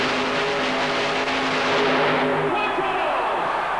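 A supercharged T-Roadster making a super modified mud racing run in 1991 roars loudly, its engine revving hard and then fading as it pulls away.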